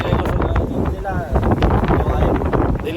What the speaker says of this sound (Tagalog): Pero kusog ang hangin.